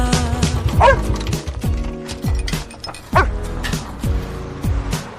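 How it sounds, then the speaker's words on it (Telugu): A French bulldog puppy gives several high, yappy barks and whimpers in short bursts, close and fairly loud, with music playing along underneath. "కుక్కని తెచ్చుకున్నావు అబ్బాయి"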